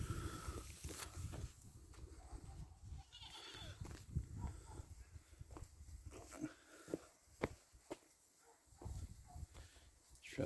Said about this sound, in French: Il y a une autre chèvre ici.